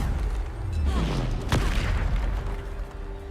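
A Bombarda spell explodes in a video game with a heavy, booming blast amid dense rumbling action, loud and close, while a player's voice talks over it.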